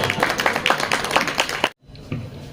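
An audience at a poetry gathering bursts into applause for poet Falak Sultanpuri, a clear run of crowd clapping that stops abruptly, followed by a faint thump and quiet room tone.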